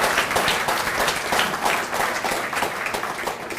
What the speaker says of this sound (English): could I please have a round of applause for all of those who've made such a contribution